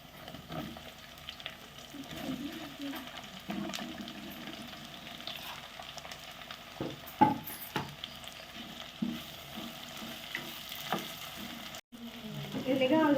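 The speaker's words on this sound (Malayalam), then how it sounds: "അപ്പോൾ ഇഞ്ചിയും വെളുത്തുള്ളി അത്യാവശ്യം കിടന്ന് മൊരിയണം." Ginger and garlic sauté in a pan for pepper chicken, a soft ongoing sizzle broken by a few spoon scrapes and stirring knocks, fairly quiet and close.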